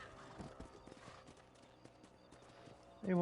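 Horse hooves clip-clop in the Western video game Red Dead Redemption, a soft steady patter of footfalls under quiet ambience, ending with a sudden louder burst as a voice cuts in.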